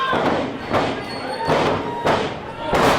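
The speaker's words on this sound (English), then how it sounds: "Big power slam from Nixon." Heavy thuds of a wrestler slammed onto the ring mat in a power slam during an independent wrestling match, several booming impacts over a noisy crowd.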